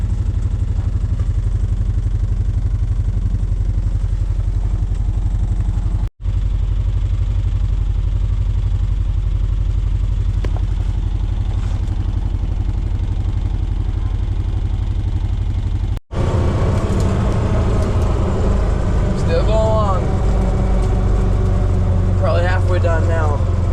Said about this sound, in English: there's the tractor right there.